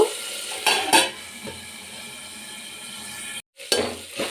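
Ingredients for lentil payasa fry in a pan with scraping and clinking of a spoon against metal, a few sharp clanks standing out over a soft steady sizzle, close by.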